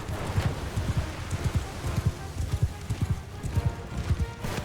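Horse hooves pound in a steady galloping rhythm during a Mount & Blade II Bannerlord battle, close and continuous with faint rain-like hiss and distant battle noise behind.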